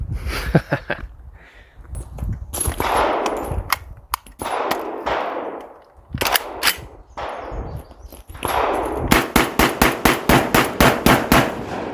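A Panzer Arms BP12 12 gauge magazine-fed semi-automatic bullpup shotgun fires loud, sharp blasts outdoors: scattered single shots early on, then a fast string of about eight shots closing out the stretch.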